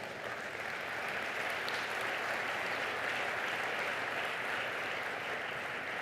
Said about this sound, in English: Big applause for everyone.